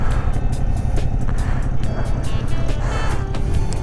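A Yamaha MT-07 motorcycle on the move, with a steady low engine drone close by and heavy wind rush layered over it, no voices.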